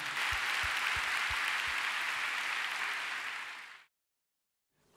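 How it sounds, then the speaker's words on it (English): A church congregation breaks into loud, sustained applause and clapping, a dense wash of hands that rolls on for several seconds and then fades away to silence. "give the Lord a big clap"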